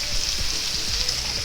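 A bone-in cowboy ribeye steak sears on a hot grill with a steady, close, even sizzle that holds for the whole moment without any voices.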